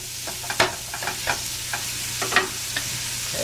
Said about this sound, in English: I love to hear the sound of that sizzle.